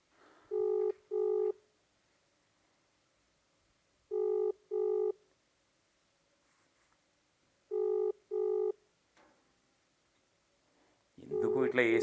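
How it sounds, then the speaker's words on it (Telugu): An outgoing phone call keeps ringing with no answer. The ring tone comes in paired beeps, repeated three times with quiet gaps between, then a burst of noise at the end. "ఫోన్ లేపట్లేదు, రింగ్ అవుతుంది"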